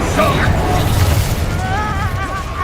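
A Confringo blasting spell goes off in Hogwarts Legacy, a muffled boom and burst of fire set among continuous game effects and music, with a voice talking over it.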